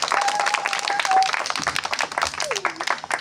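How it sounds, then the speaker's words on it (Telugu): An audience at a church Christmas program claps for a children's performance, a dense, fairly loud patter of many hands with a few brief voices mixed in. "ఓకే, గట్టిగా చప్పట్లు కొట్టండి."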